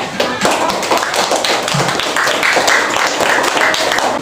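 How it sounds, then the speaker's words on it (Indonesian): Classroom applause for a student group after their presentation: a dense, loud burst of clapping from many hands keeps going steadily for several seconds, with no one speaking over it. "Kita beri tepuk tangan untuk kelompok Gian dan kawan-kawan."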